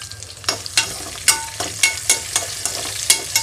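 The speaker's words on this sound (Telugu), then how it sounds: "ఆయిల్ బాగా హీట్ అయ్యేటప్పుడు ఇందులోకి నేను నిలువుగా కట్ చేసుకున్న ఉల్లిపాయలు, అలాగే పచ్చిమిర్చి వచ్చేసి ఘాటు పెట్టి వేసేసుకున్నానండి." Sliced onions, green chillies and mint frying in hot oil, stirred with repeated regular strokes that scrape sharply over a continuous close sizzle.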